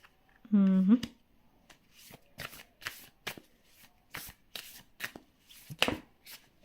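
A deck of tarot cards is shuffled in quick riffling bursts, close and crisp, with a voice talking in Hindi and English at intervals throughout.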